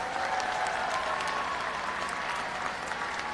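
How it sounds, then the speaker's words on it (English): Steady applause from a large crowd at a university commencement ceremony honoring digital social media graduates, a broad, even roar of many hands that sounds somewhat distant and reverberant in a big hall. "Let's give a round of applause for all of our digital social media graduates."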